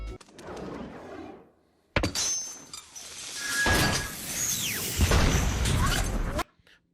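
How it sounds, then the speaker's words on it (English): A bomb explodes in a Spider-Man film scene: a sudden heavy boom cuts in after a brief rumble and gap, then sustained roaring blast noise with crashing debris and a whistling sweep, loud and close, ending abruptly. "Beautiful shot of the bomb exploding as soon as it hits the pupil of his eye"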